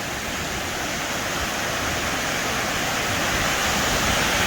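Water rushes steadily over the overflow spillway of Big Brook Dam in Pemberton, a loud, continuous broadband roar with no breaks or voices.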